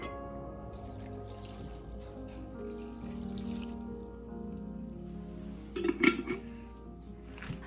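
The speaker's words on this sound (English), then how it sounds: "we're gonna pour everything together" Ingredients for Haitian piklíz being poured together in a kitchen, a trickling liquid pour with light clinks of a container, quiet and close, growing briefly louder near the end.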